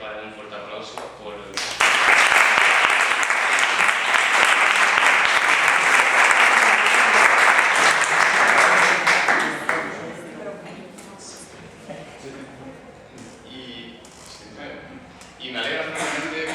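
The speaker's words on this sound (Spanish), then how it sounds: "quiero pedir para él un fuerte aplauso" Loud burst of audience applause at a book presentation, starting abruptly and holding strong for about eight seconds before fading, with a speaker's voice before and after.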